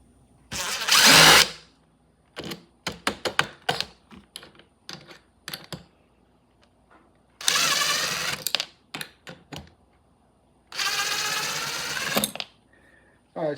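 A power drill backs screws out of a wooden dog ramp in three loud whirring bursts, separated by clusters of clicks and handling clatter.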